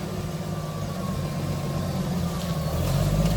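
A tractor engine idles with a low, steady rumble while moving a 1973 Mustang Mach 1, moderately near and slowly growing louder toward the end.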